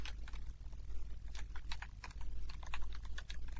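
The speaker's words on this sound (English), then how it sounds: "If you just start typing" Rapid typing on a computer keyboard during a programming lesson on structs, with a steady run of close, crisp key clicks and irregular bursts of keystrokes and no speech.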